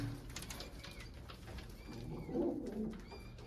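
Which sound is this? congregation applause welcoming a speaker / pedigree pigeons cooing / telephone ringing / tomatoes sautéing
pedigree pigeons cooing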